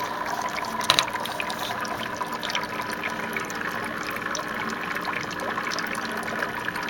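Water pours steadily through a Tetra EX-20 power filter converted into a hang-on-back algae scrubber, flowing down under an internal wall with a continuous close trickling wash, no voices.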